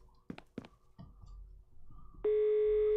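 A landline telephone call: a few clicks and handset knocks, then a loud, steady busy tone cuts in and holds to the end.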